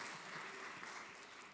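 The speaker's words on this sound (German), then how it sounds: "an dieser Stelle war Applaus eingeplant" Audience applause at an anniversary celebration of a research association, a steady even wash of clapping filling the short moment at moderate level with no voices over it.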